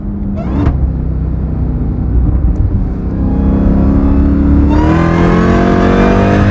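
A Jeep Trackhawk, stage 1 tuned, rumbles loudly up close. Its engine revs climb hard as it accelerates with tires spinning, then a downshift brings a sharp rise into a sustained high-revving roar.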